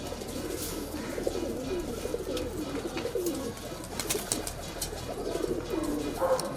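A Kalpare high-flyer pigeon coos in a loft, soft repeated throaty coos close by over faint rustling and background noise.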